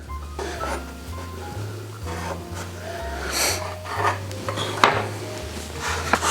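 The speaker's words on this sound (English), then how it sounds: "we're going to take our pie tin, cut out the edge" A pie tin pressed and scraped against rolled pastry on a work surface gives close metallic rubs and clinks, with a low hum running underneath and no talking.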